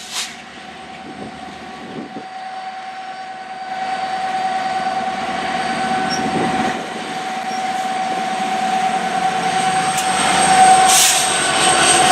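A northbound Norfolk Southern coal train led by locomotives 9761 and 6758 rumbles past steadily for about twelve seconds, loud and sustained with a humming engine tone and rising wheel noise.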